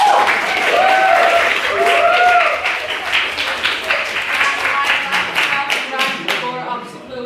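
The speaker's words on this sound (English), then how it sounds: "Shall we have a second round of applause for maidens?" Audience at a debate claps in a sustained round of applause, fairly close and dense, with a voice speaking over it early on before the clapping thins toward the end.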